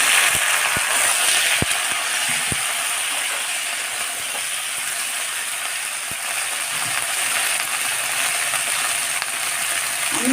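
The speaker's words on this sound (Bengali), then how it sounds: "এবার আমি এই তেলেই ভেন্ডিগুলো ভেজে নেব।" Okra is fried in hot oil, giving a steady, bright sizzle and crackle that holds evenly throughout. A few faint clicks and taps sound near the start.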